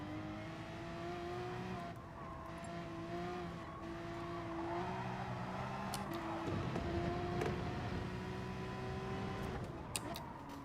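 Porsche Gr. 3 race cars run a daily online race in Gran Turismo, their engines a steady, loud droning whine that rises and falls in pitch throughout, with no one speaking.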